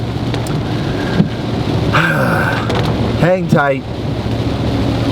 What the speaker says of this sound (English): it's raining for the first time in like a week here